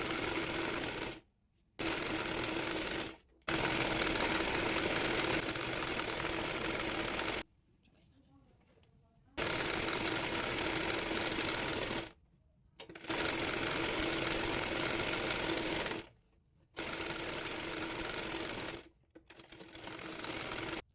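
A sewing machine stitches the lower seam of a baby nightie in several steady whirring runs of a few seconds each. Short silent pauses fall between the runs, and the sound is close and moderately loud.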